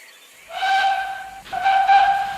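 A steam locomotive whistle blows two sustained, shrill blasts with a brief gap between them, loud and close, with a breathy hiss underneath.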